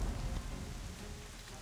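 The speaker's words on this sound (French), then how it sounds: "il se met à pleuvoir" Steady rain pours down in the video game Black Desert Online, a soft even hiss with faint low rumbling of thunder underneath, no voices.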